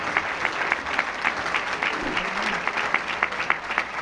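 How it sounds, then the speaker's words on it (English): An audience at an ecumenical prayer breakfast gives a sustained round of applause, many hands clapping evenly for several seconds at moderate distance, with faint murmuring underneath. "so let's give him another round of applause."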